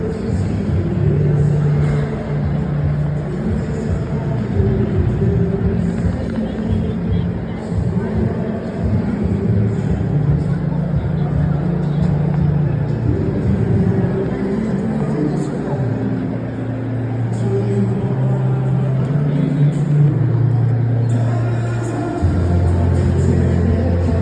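The Dirty Sanchez monster truck drives with a deep, continuous engine rumble whose pitch shifts as it revs up and down, loud and steady for the whole stretch, with a voice talking over it.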